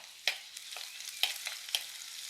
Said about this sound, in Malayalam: ഉലുവ നല്ലപോലെ മൂത്ത് വന്നപ്പം നമ്മളിത് ചതച്ച് വെച്ചിരിക്കുന്ന വെളുത്തുള്ളി ചേർത്ത്